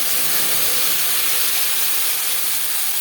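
Panch phoron and bay leaf frying in a small amount of hot oil, a continuous, even hiss-like sizzle that holds steady throughout without any speech.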